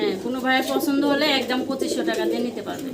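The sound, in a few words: pigeons cooing at a pigeon farm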